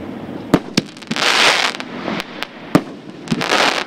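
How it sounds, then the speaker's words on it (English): A 6-inch fireworks shell canister goes off at a demo, with several sharp, loud report bangs and bursts of crackling, roaring noise between them. "This is a 6-inch shell canister."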